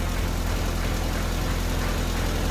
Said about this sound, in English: now it seems to be idling okay though